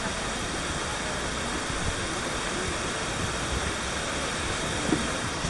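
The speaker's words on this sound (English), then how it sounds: "One of the Munar waterfalls." One of the waterfalls at Munar in India gives a steady, even rushing hiss of falling water that stays constant throughout and sounds somewhat distant and soft.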